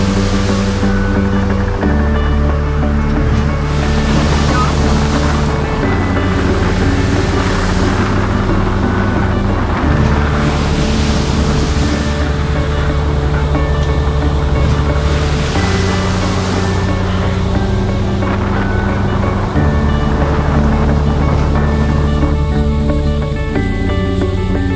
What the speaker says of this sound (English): the boat ferries past the base of the American Falls, and on the base of the Horseshoe Falls, the dramatic passage leading you through the rolling waterfall, whitewater